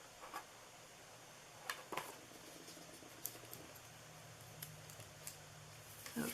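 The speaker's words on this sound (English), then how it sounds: "I need to cut this a little bit shorter" Scissors snip paper while making a festive treat box, a few quiet, scattered cuts spaced out over several seconds against a hushed indoor background, close to the microphone.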